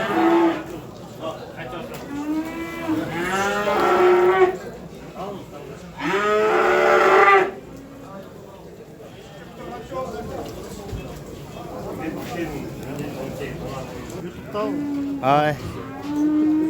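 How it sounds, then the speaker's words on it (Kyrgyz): Five- to six-month-old calves moo repeatedly and loudly at a livestock market near Bishkek, several drawn-out calls close by amid background talk. "Мындай музоолор экен."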